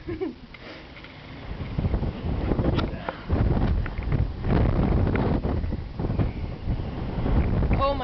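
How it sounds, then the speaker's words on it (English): Strong wind buffets the microphone atop the Glastonbury fire tower in Vermont, gusting in uneven rumbling waves with faint voice sounds mixed in. "As you can hear the fucking wind."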